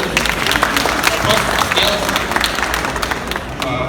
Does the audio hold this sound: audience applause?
yes